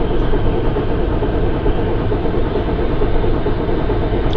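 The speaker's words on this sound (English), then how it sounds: "So as the train slows down, because more and more of it is on the grade, I'm just piling on the throttle." Cab Forward steam locomotive hauling a train up the Donner Pass grade under heavy throttle in Train Simulator 2015, a dense, steady rumbling roar of engine and rolling wagons, loud and continuous with no speech.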